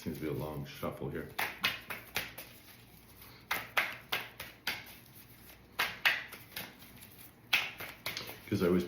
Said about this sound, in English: Seems to be a long shuffle here.